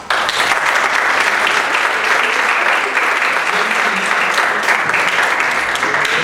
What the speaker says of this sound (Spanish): damos nuevamente un aplauso a la profesora